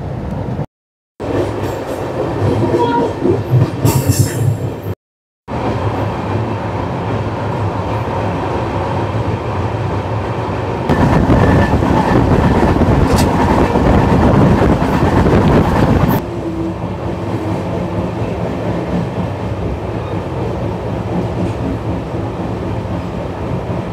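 A Vistadome coach train on the New Jalpaiguri to Alipurduar forest line runs toward Madarihat station, its loud continuous rumble and rattling wheels rising and falling, with brief drops and wind buffeting the microphone.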